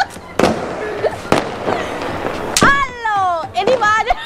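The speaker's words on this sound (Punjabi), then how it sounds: "ਦੁਨੀਆ ਦਾ ਸਭ ਤੋਂ ਵੱਡਾ ਪਟਾਕਾ ਲੈ ਕੇ ਆਏ ਆ ਜੀ ਸਾਡੇ ਗੁਆਂਢੀ।" Diwali firecrackers burst nearby in several loud, sharp bangs, followed by a cluster of shrill whistling streaks that rise and fade.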